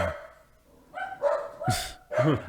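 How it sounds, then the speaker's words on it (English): Guard dogs bark loudly and close by in a few sharp bursts, with short gaps between them. "Guard dogs"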